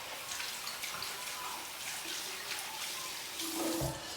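Tap water running steadily into a basin while an olive oil scrub is rinsed off, a soft continuous splash with faint handling sounds, heard close and quiet without talk.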